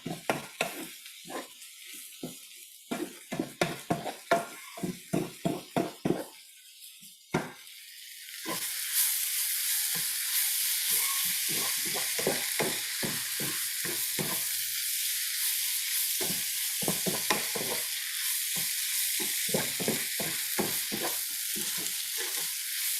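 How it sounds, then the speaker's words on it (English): Biryani ingredients are stir fried in a pan: a run of quick scraping, clattering stirs gives way to a steady, loud sizzle of frying, broken by more bursts of stirring, with no talking. "You're gonna stir fry this a bit."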